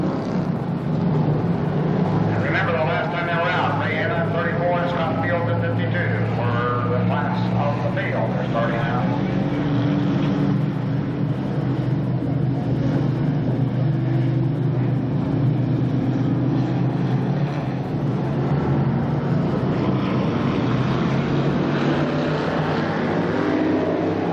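Race cars at Winchester Speedway in 1993 roar past in a loud, continuous pack at the green flag, engines droning steadily with a rising pitch sweep as the field accelerates, with an announcer talking over the noise.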